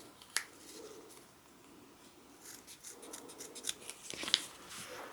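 Scissors snip and round off the ends of kinesiology tape, producing several quiet, crisp cuts spread across a soft, close background.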